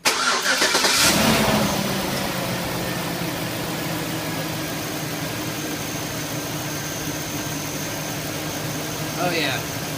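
A 2001-2006 Chevrolet Suburban / GMC Yukon truck engine cranks and fires at the start, then settles into a steady, loud idle that runs alone throughout after a fan clutch replacement.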